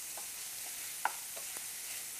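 Shelled, unsalted, dry-roasted pistachio nuts toasted and stirred in a cooking pan, giving faint, sparse clicks and light scrapes over a quiet background.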